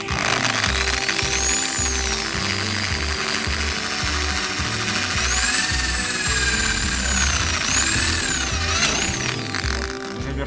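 A power drill bores steadily into a thin stainless steel flue liner during stove chimney relining, a continuous loud whirring grind with shifting high squeals as the bit bites the metal.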